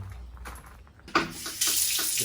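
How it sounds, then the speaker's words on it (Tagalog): Shower water gushes in a campsite shower room, starting quietly and then surging into a loud, steady hissing spray that continues to the end. "Lakas. May shower pa."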